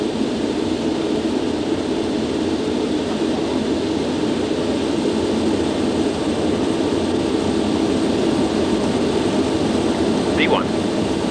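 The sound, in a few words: Concorde jet engines at take-off power, from cockpit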